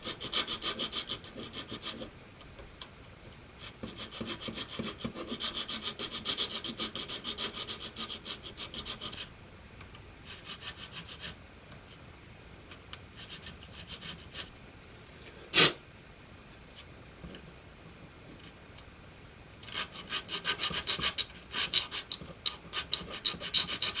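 A file rasps rhythmically against a plastic part from a Monogram Battlestar Galactica model kit, in short close strokes that come in bursts with pauses between them and one sharp click partway through.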